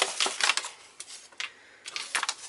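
Stiff folded paper from the instruction manual of a Crosman 1911 BB gun crinkles and snaps as it is pulled open, in several short, close, fairly quiet bursts with pauses between them.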